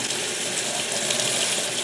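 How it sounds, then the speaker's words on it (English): Hot water runs steadily from a kitchen tap for rinsing a French press coffee maker, a continuous close hiss and splash without pauses. "First I do is I put the hot water on"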